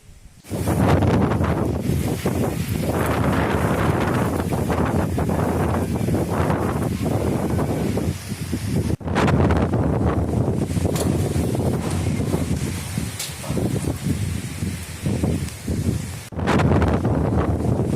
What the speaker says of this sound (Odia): ଅମ୍ଫାନ ପ୍ରଭାବରେ ଓଡ଼ିଶାରେ ବର୍ଷା ସହିତ ପବନ ଜାରି ରହିଛି।